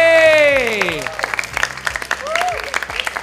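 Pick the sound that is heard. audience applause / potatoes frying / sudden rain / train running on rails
audience applause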